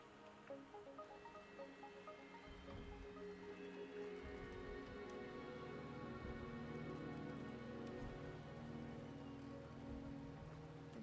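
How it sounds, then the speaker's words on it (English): Steady rain falls on surfaces in the video game Wuthering Waves, a dense continuous patter that runs throughout at low level, with no one speaking. "The rain is subsiding, and the sky will soon clear."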